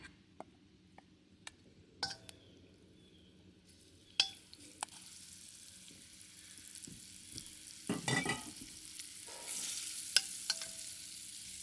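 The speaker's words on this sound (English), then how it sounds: "we're gonna put a little oil in the pan here to heat up the pan. We're gonna put that fish inside we're gonna cook that first." Salmon frying in a lightly oiled pan, with a faint sizzle that builds and becomes more prominent later, broken by sporadic clinks and scrapes of utensils against the pan.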